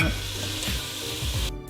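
Onions sizzling in hot lamb fat and browned meat juices for a lamb tajine, a dense close frying hiss with soft stirring strokes, cutting off abruptly at the end.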